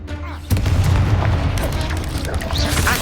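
Confringo spell blast in Hogwarts Legacy, a loud booming explosion bursting in abruptly and rumbling on with debris-like crackle, with voices mixed in.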